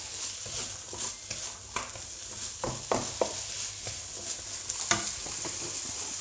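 Ginger stir-fried in a pan for black pepper beef crackles with a steady soft sizzle, broken by scattered scraping and stirring clatters near at hand.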